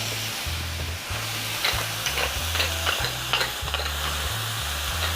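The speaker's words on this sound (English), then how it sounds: "So essentially all we're doing is sauteing vegetables and dumping the rest in." Vegetables sautéing in a pan with a constant loud sizzle, intermittent spatula scrapes and ticks on top, and a repeating low mechanical hum pulsing underneath.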